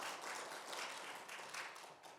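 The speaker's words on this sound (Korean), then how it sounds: "우리 박수로 환영하겠습니다" A church congregation applauds to welcome a first-time visitor, a faint, distant, continuous patter of clapping that holds steady throughout without voices.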